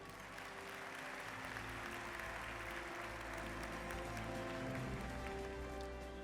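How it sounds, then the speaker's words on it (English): Faint, distant applause from a banquet audience at an awards ceremony, a soft continuous patter of clapping under a steady electrical hum. "Can we applaud our judges?"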